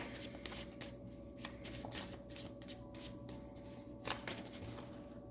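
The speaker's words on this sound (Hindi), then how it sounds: "उप्स, तो बहुत सारे कार्ड्स गिर गए हैं" Tarot cards are shuffled with a steady riffling crackle, and a sharper clatter comes near the end as many cards spill out of the deck, all fairly quiet with no voice.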